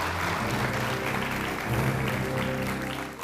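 Applause from a studio audience for the finalists of a televised presidential-themed competition show, a steady wash of clapping with music playing beneath it throughout.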